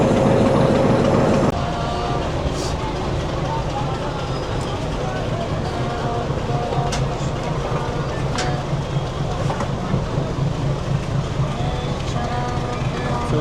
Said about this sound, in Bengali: দেখছেন যে 2300 সিরিয়ালে সেই লোকোমোটিভ আমাদেরকে আজকে নিয়ে যাবে ঢাকার